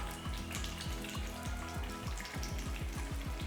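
Curry leaves sizzling in hot oil, giving a dense, loud crackling hiss with quick repeated bubbling pops throughout a short burst, and nobody speaking.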